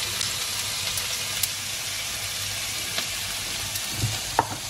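Oil heats in a cooking pot, giving a steady broad hiss that holds evenly throughout, with a few faint clinks near the end.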